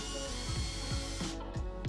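An impact driver whirs and gives a few quick rattling impacts in short bursts as a screw is driven into a wooden drawer box joint, close and loud.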